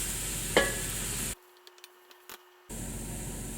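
Courgettes and peppers frying and being stirred in a pan, a steady sizzle with a scrape of the spoon, cut off by a brief near-silent gap before the sizzling resumes.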